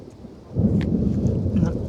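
Thunder booming in a storm during fence-building work, a low rumble swelling suddenly after a quiet start and rolling on steadily with rain hiss beneath.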